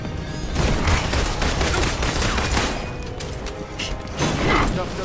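Gunfire rattles through a battle in the Marvel's Avengers action game, dense overlapping shots and mechanical clatter from close by, with bursts swelling and easing across the stretch and a voice faintly in the mix.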